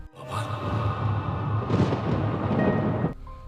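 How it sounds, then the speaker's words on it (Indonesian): Thunder rolls as a rain storm approaches: a loud, sustained low rumble swells and lingers for a few seconds before cutting off. "Ada petir yang bergemuruh, nampak kalau hujan akan turun."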